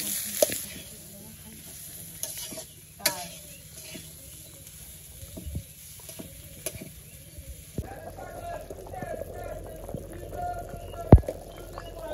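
Curry sautéed in a pan in a village kitchen, a low continuous sizzle broken by scattered spatula clinks and scrapes, growing busier and louder toward the end.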